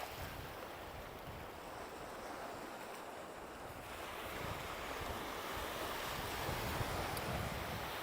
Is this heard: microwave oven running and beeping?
no